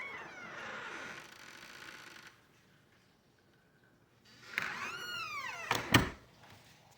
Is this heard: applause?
no